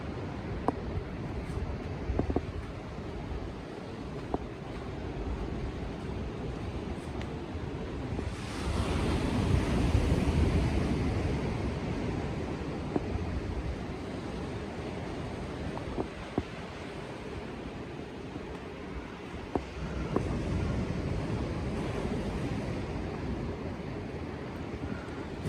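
Sea waves surging into a natural sea cave inlet at Caves Beach, a continuous close roar of surf with swells building and easing, mixed with wind buffeting the microphone.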